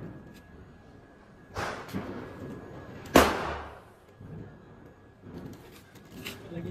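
Firecrackers burst during Diwali celebrations in Delhi, with a few sharp bangs spaced across the stretch and the loudest crack near the middle, sounding somewhat enclosed and echoing, over background murmur and faint voices.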